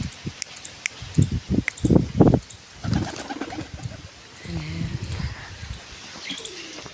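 Pigeons perched together shift and flutter close by, with soft wingbeats, rustling and brief chirps in a burst early on, then quieter movement and faint coos.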